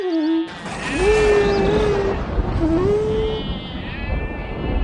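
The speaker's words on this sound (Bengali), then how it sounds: "প্রতিদিনের মতো সেদিনও বিজু গেছে ছাগল চড়াতে।" Goats bleat in a rural cartoon scene, with several wavering calls close by, one long cry followed by a shorter one, over a soft background noise.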